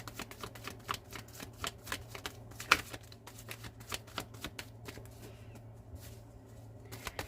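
Tarot cards being shuffled, a fast run of crisp riffling clicks and flutters repeating across the whole stretch at a steady close level over a faint low hum, with no voice.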